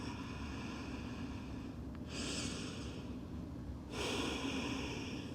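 Slow, calm breaths drawn during a yoga child's pose: two soft, airy exhalations a couple of seconds apart over faint room quiet.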